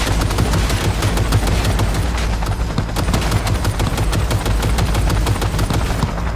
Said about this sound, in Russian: Я как бы, если что, из пулемета стреляю.